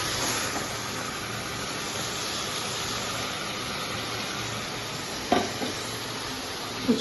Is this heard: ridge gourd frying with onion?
yes